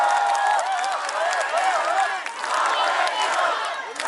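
Outdoor campaign rally crowd in Ansan, South Korea, cheering and clapping loudly, a dense roar of voices and applause that dips briefly midway then swells again.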